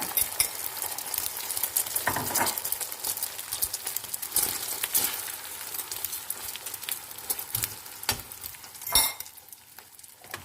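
Oil sizzles and crackles steadily in a hot pan as beaten egg for an omelette fries, broken by occasional scraping and clinking of a utensil against the metal.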